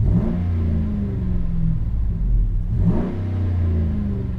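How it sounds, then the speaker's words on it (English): A 2013 Ram 1500 pickup with an aftermarket exhaust revs twice, each blip rising into a deep, smooth rumble before settling back to a loud, close idle. "And it does have an aftermarket exhaust."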